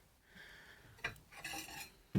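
A full-size plate handled in a small travel trailer kitchen, giving a few faint clinks and knocks of crockery against surfaces, with one sharper clatter near the end.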